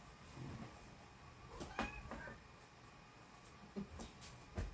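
A pet cat meows indoors, with a few short, soft meows spread across several seconds over low room noise, close but faint.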